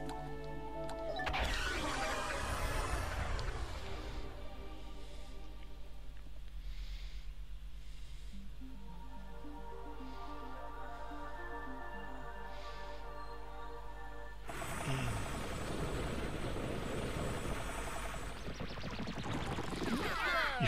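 A ship landing in the Pikmin 3 video game, with a loud rushing whoosh at the start, then a hum and tonal sweep as it settles, and a second noisy burst near the end, with no one speaking.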